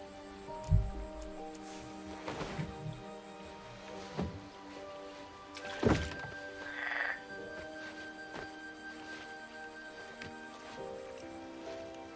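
Frogs croaking in the King's Quest video game, a few scattered croaks and short bursts spaced across the stretch over a soft ambient bed, with a brief high tone in the middle.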